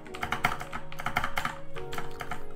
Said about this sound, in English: mechanical keyboard right next to a microphone